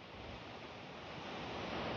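Waterfall at Cliff Falls in Maple Ridge, Canada: a steady, dense rush of falling water, close and continuous, with no voices.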